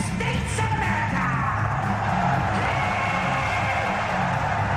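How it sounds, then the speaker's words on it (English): An arena crowd at a fight roars and yells continuously, loud and dense, with whoops rising above the sustained cheering and some shouting voices mixed in. "The whole crowd is going for it."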